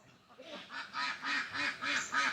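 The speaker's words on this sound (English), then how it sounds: "Hope you guys can see all my sweet ducks" A flock of farm ducks quacks in a steady run of loud, repeated honking calls that come at a regular rhythm and build slightly, heard close by with no talk.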